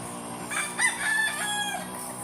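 A rooster crows once at a gamecock market, with a drawn-out cry close by over a steady hum of background noise.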